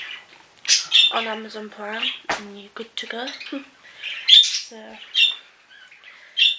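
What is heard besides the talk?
pet birds chirping in cages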